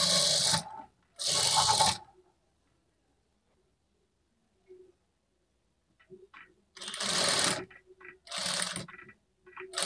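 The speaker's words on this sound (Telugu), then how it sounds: "ఇప్పుడు ఈ మార్కింగ్ మీదనే స్టిచ్ చేసుకోవాలి" A sewing machine stitches blouse fabric along a marked line, running in loud short bursts of two and then several seconds each, separated by near silence with faint clicks and handling.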